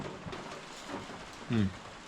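Steady rain patters on the roof of an old wooden cabin during a storm, a close, continuous hiss with a brief louder knock near the end and no speech.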